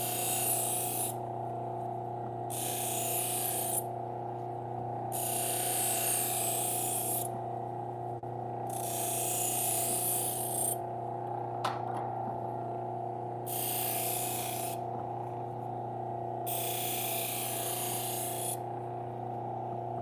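A knife is pressed against a spinning sharpening wheel in repeated passes, each a loud hissing grind of a second or two over a constant motor hum, with short quieter gaps between strokes.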